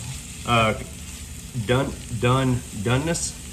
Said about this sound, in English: we're gonna add that to the skillet. And we're gonna cook this to our desired doneness